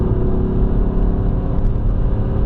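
A 2016 BMW M3 engine accelerating on the Nürburgring Nordschleife, heard from inside the car as a loud, steady low rumble and drone that continues throughout with no talking.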